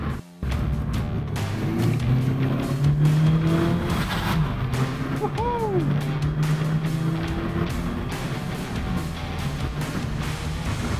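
A MINI Cooper S engine driven hard at speed, its note rising and falling loud and close, with a short whistling turbo pressure release near the middle.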